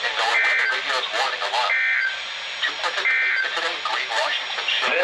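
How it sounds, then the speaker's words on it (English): Emergency Alert System tones close a tsunami warning test, repeated bursts of electronic data tones broadcast over radio, loud and evenly spaced across the whole stretch. "The following tones will conclude this test."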